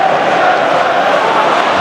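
A noisy football crowd at a Manchester United versus Arsenal match in 2002 roars in a loud, continuous, dense wash of massed voices without a break.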